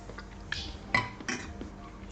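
A saucepan is handled in a kitchen while water goes in to soak it, giving faint metallic clinks and knocks, a few scattered taps over quiet background.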